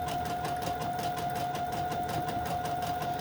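A sewing machine stitches fabric and lace snippets down, running in a steady, fast mechanical whir with a clear constant tone and rapid needle rhythm, close and fairly quiet, with no talk.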